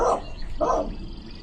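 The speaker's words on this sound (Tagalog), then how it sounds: "He's a very good dog." Two short, close barks from a dog sound in quick succession, about half a second apart, heard with no talking.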